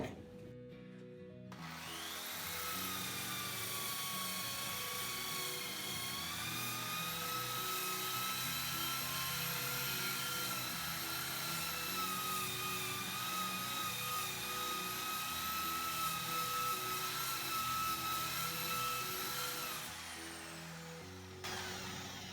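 A power tool fitted with a wire brush whines steadily for about twenty seconds as it strips rust from garden tools, with no talk over the sound.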